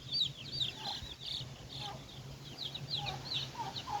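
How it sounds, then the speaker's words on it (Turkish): Brahma chicks one to two days old peep in a steady run of high, thin cheeps, several close birds chirping together over a low background hum. "Brahma cüzə. Bunlar 1-2 gün oldu çıxkanlar."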